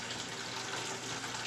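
Water pours steadily into a bucket as an aquarium is drained, a continuous loud gushing rush with no break.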